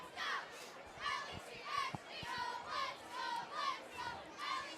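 Cheerleaders at a Triway at Fairless high school football game chant a rhythmic 'Let's Go' cheer, with about seven evenly spaced phrases rising and falling over crowd noise, fairly faint and distant.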